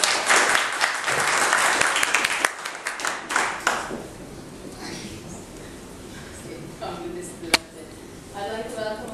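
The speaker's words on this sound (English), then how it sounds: "Give her a big round of applause." An audience bursts into loud applause at a seminar on English and chess, dense clapping for a few seconds that thins and fades, then scattered claps and light room noise.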